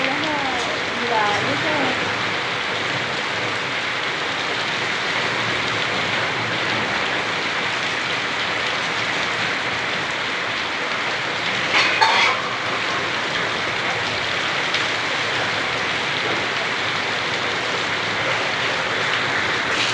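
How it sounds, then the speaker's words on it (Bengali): Dense, steady rain pours down throughout, a continuous loud wash with a few faint voices briefly in the background. "দেখেছো কি বৃষ্টি"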